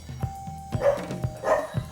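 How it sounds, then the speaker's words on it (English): A neighbor's dog barks nearby in short, sharp single barks spaced irregularly, with a couple of softer whining yelps between them and no talking. "There's the neighbor's dog."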